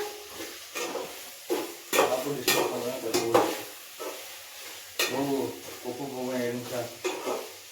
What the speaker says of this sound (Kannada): ಶೇಂಗಾ ಫ್ರೈ ಆಯ್ತಾ?